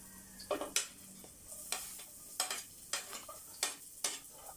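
Garlic goes into a pan after ginger and is sautéed, with a soft sizzle under repeated sharp scrapes and clinks of a spoon stirring against the pan, close up.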